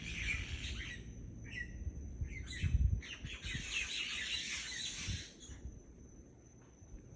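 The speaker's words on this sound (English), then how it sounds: "These are the sounds of the birds" Myna birds chirping after sunset in Hawaii as they settle for the night, a chorus of overlapping chirps and squawks at moderate distance that fades toward the end, with crickets faintly underneath.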